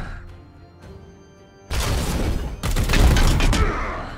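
Support gunfire in the Warhammer game Chaos Gate opens with a sharp blast and rolls into a loud, dense burst of crackling shots and impacts lasting a couple of seconds, after a quieter stretch of faint tonal game ambience.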